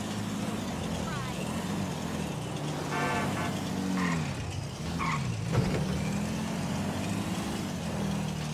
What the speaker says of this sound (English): I'm driving back to my crib, man, all right?